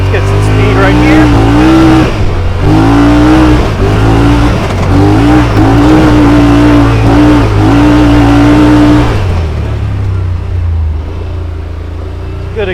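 2021 Yamaha Wolverine RMAX2 1000 Limited Edition side-by-side accelerating hard along a dirt trail, the engine loud and close with rising and shifting revs before easing off near the end, a voice talking over it.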